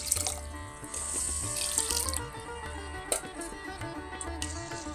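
Water runs and splashes close by while rice for polao is washed, a steady rinsing flow with small bumps and swishes throughout.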